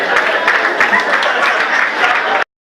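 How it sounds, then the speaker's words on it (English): Youth seminar audience clapping for students, a loud, dense burst of applause close by with a faint murmur of voices, cut off abruptly near the end. "Clap for them, clap for them"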